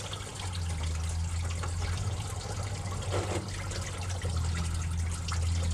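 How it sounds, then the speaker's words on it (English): Water drains slowly from a Honda into a container during timing belt work, a steady trickling wash that continues throughout over a constant low hum, with no talk. "So slowly drip to your container down there first."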